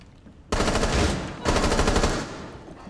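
Automatic weapon fire in the video game Rainbow Six Siege: two loud, close bursts of rapid shots, the first about a second long and the second slightly longer, with no talk over them.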